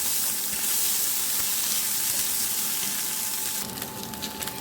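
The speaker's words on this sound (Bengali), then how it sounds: "পেঁয়াজ রসুন আর আদা ভাজা হয়ে গিয়েছে" Onion, garlic and ginger paste sizzles steadily in a pan, a loud continuous hiss that eases slightly near the end.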